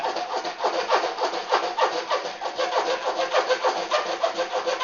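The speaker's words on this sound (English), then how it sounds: "I'm going to cut parallel to that." A handsaw cuts by hand with a steady back-and-forth rhythm of rasping strokes, close and fairly loud, with no talking.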